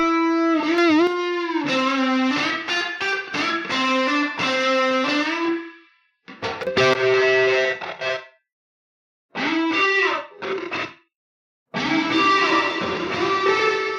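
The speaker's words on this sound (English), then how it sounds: "Plate and reverb." A melodic instrument line drenched in a lush, lingering plate reverb from the Biverb plugin, playing in bursts separated by brief silences.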